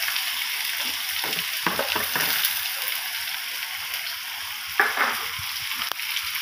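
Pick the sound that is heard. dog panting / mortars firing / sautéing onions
sautéing onions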